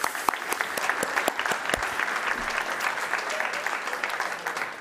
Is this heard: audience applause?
yes